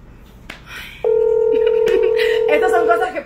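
A phone gives a steady two-tone dialing signal held for about two seconds, with people talking over it nearby.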